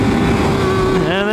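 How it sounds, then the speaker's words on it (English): A motorcycle engine drones loudly and up close on Monte Cristo Road, a dirt road in Utah, its pitch dipping and then climbing again as the rider shifts gears. "And now we can shift."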